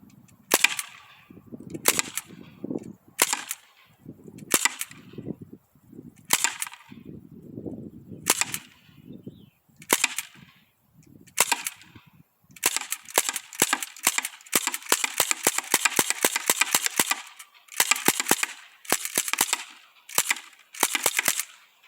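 A Sig Sauer MPX ASP .177 pellet air gun fires high-velocity H&N Terminator pellets. Sharp, close cracks come at first at spaced intervals, then in quick rapid-fire bursts, with softer knocks mixed in.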